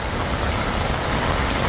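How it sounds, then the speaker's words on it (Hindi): Heavy rain pours during a black rainstorm in Hong Kong, making a loud, dense, unbroken hiss with no pauses. "अज ब्लैक रेन स्टॉर्म चल रहा हांगकांग"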